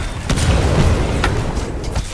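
Explosions in the shooter video game Titanfall 2: a loud, dense, continuous rumble of booms with a few sharper blasts standing out, and no talking.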